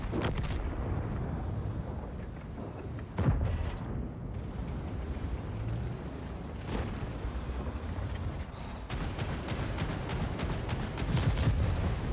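Gunfire in a video game comes through as sharp, loud reports at scattered intervals over a low, murky battle rumble, with a few crisp cracks standing out clearly. No voices can be heard.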